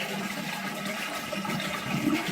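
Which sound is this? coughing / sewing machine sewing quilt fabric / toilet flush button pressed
toilet flush button pressed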